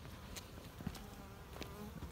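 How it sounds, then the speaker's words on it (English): Buzzing of many honeybees flying at a hive entrance in mid-winter, a steady insect drone with brief louder passes as individual bees zip near. "see how many bees are flying around this entrance"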